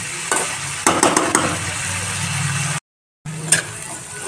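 Chana usal being stirred and mixed in a pan, a few close spatula scrapes and clinks over a low sizzle, then a short total dropout before a final clink, with no speech.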